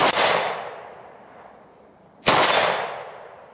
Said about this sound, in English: This is our first Jerry Miculek muzzle brake test.